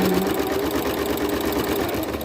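A sewing machine runs steadily in straight-stitch mode while quilting a quilt-as-you-go block, a continuous close mechanical whir with a fine rapid needle rhythm and no pauses.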